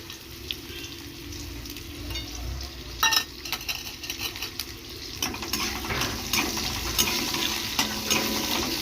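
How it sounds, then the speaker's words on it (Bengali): Chopped onion and garlic frying in a pan, a steady sizzle that grows denser and louder partway through, with repeated stirring scrapes and light utensil clatter. "এরপর দিয়ে দিচ্ছি পেঁয়াজ রসুন কুচি"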